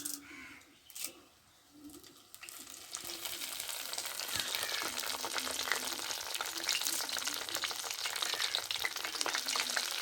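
Curry leaves drop into hot oil for ribbon pakoda and set off a sudden bright crackle that swells into a dense, steady sizzle after a quiet start with a few faint background sounds.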